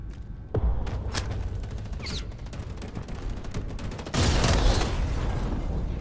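In the game Homefront: The Revolution, a small robot with a machine gun mounted on top fires sustained bursts at close range. A short opening burst swells into louder, denser rapid fire toward the end.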